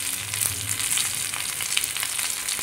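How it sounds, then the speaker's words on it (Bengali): Pointed gourd (potol) frying in hot oil, a dense continuous sizzle with small crackling pops, close and steady with no talk. "আমার আর কিছুটা পটল ভাজতে বাকি ছিল, সেগুলো প্রায় রেডি হয়ে গিয়েছে।"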